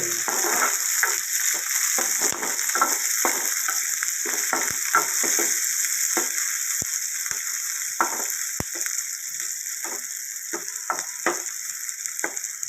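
Seasoning frying in oil in a pan before bitter gourd is added, a continuous bright sizzle with frequent small pops and crackles, close and steady throughout with no talking.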